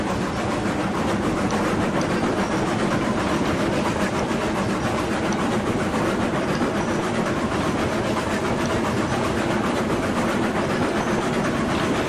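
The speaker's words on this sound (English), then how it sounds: "Bring down the volume a little bit on the train." A train rolls along rails in the video game Railroads Online, a loud continuous rumble with clickety-clack wheel noise and engine drone sustained evenly from start to finish, no talking.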